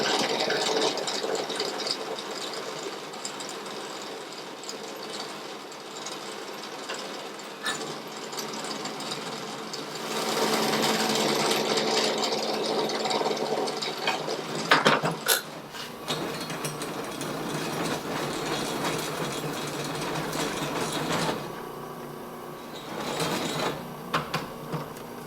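A Harbor Freight press drills a hole through a marked metal part, giving a steady, fairly loud mechanical grinding and whirring that runs throughout, rising in intensity midway and again near the end, with no talking.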